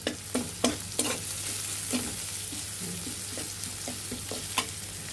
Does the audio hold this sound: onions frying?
yes